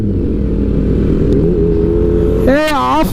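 Engines rev hard in a roadside rev battle, a loud continuous roar that climbs into rising and falling high-pitched revving near the end, with voices shouting over it.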